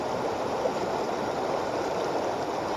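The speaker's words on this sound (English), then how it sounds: "The creek looks pretty deep and really swift." Swift, deep water in Slate Creek Canyon rushing past nearby, a loud, steady broadband roar and gurgle with no pauses.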